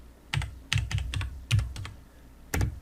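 Keystrokes on a computer keyboard as text is entered into photo-editing software, a short burst of about eight crisp clicks in uneven rhythm, close and clear with no talk.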